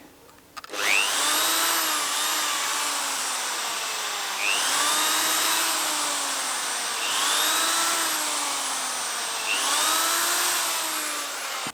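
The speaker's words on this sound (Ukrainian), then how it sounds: "Треба посверлити нам дірки." A drill bores holes into an old barrel in several passes, each a loud whirring spin that rises, holds, and winds down in a repeating rhythm, close and with no speech over it.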